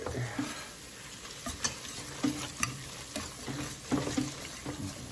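Flour sauce frying and thickening in a pan while being stirred, a soft steady sizzle with repeated scraping and clinking of the utensil against the pan.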